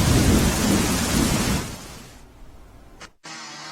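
Heavy downpour in Ahmedabad roars loudly for the first couple of seconds, then eases into a quieter patter of rain on surfaces after a brief cut, with no voices.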